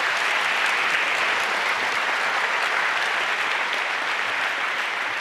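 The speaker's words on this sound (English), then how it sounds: "Please give a warm round of applause to FX." Warm audience applause welcoming a speaker at the 30c3 hacker conference, a large hall filled with continuous, even clapping at a steady, fairly loud level.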